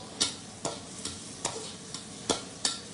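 Stir-frying bok choy with chili and pork sausage in a wok: a metal spatula scrapes and clacks in quick, regular strokes over a steady, soft sizzle.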